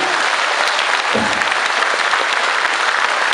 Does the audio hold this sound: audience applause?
yes